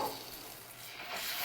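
Hot caramel in a pan sizzles softly as a small amount of water hits it, a faint steady hiss without pauses or talk.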